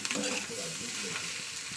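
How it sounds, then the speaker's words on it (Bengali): Pointed gourd coated in egg with raw onion sizzles and spits in a frying pan, a close, steady crackle with light stirring and no voices. "দেখতে পাচ্ছেন হয়ে গেছে আমার পটল ডিম ভাজা"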